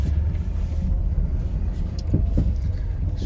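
A caravan's engine idles steadily with a loud, low rumble right after a new battery has been fitted after winter, with a few faint knocks on top.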